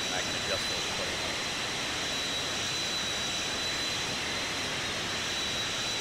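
Continuous broadband roar of a jet airliner engine in the X-Plane 11 flight simulator, a steady loud hiss with a thin high whine running throughout and no change in level.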